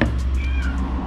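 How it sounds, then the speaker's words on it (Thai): A cat meows a few times nearby over a steady low background hum, indoors while an aluminium motorcycle phone holder is being unboxed; no talking. "มีเสียงแมวร้องหน่อยนะ"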